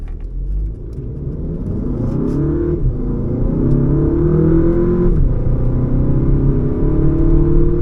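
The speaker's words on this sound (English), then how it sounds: "first thing let's do is just an acceleration in first gear" An Audi A1 40 TFSI engine revs up hard in first gear and climbs steadily in pitch, with brief dips between gears, loud and close throughout.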